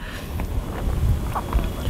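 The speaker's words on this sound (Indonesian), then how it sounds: "Ini padahal angin besar nih." Strong outdoor wind gusting across the microphone during an airgun shooting session, a steady low rumble with buffeting swells that peak near the middle, and no talk.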